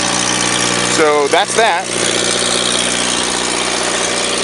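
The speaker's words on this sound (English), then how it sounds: "And it runs off of propane, and it's a 4-cylinder Ford engine." A propane-powered 4-cylinder Ford engine idles steadily on a soft-serve frozen yogurt and ice cream food truck, a constant mid-pitched drone close by while someone speaks briefly over it.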